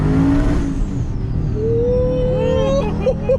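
A supercharged Dodge Charger Redeye with a compound-boost turbo setup pulls hard under boost, a loud, continuous engine roar with rising whine filling the short stretch, no talking over it.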